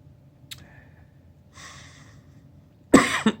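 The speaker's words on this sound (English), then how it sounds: "I've got a lot of coughing." A single sharp, loud cough up close, preceded by a soft click and a quiet breath in an otherwise quiet room.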